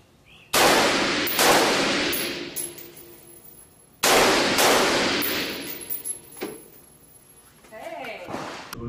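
Two loud, close gunshots ring out during U.S. Air Force tactical shooting practice, each followed by a long echoing decay, then quieter clanks and a voice near the end.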